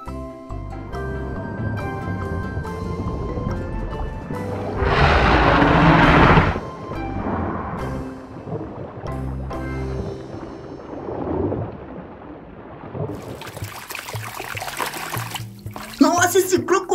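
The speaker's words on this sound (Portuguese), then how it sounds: "E agora vamos tirar esse crocodilo enorme da lama," A large plastic toy crocodile is pulled from thick mud, giving a brief wet, sucking squelch and splatter amid ongoing talk and scattered sloshing.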